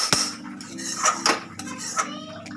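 A spoon scrapes and clinks against a metal kadai while scooping out vegetable momo stuffing with chopped coriander, giving a few sharp, close metallic knocks and scrapes in irregular rhythm.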